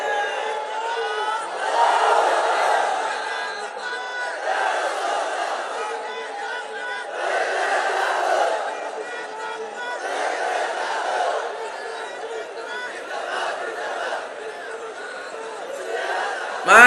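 A large gathering at an Islamic sermon shouts the takbir in unison, a dense sustained roar of many voices that swells and ebbs for several seconds, with chatter and some laughter mixed in.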